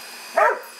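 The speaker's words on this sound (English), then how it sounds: "I don't know what the dog is barking at" A single short dog bark rings out over quiet background hiss in a garage setting, clear and moderately near, with no talking.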